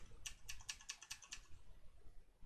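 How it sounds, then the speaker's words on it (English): Arrow keys on a computer keyboard are pressed in a quick, even run of about six faint, crisp clicks, close and alone against a quiet background. "you can select those and use your arrow keys on your keyboard"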